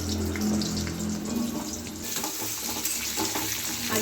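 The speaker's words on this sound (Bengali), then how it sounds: "আলুটাকে একটু হালকা করে ভেজে নেবো" Potatoes frying lightly in oil with dried red chillies in a home kitchen, a soft steady sizzle with a watery hiss, close and fairly quiet.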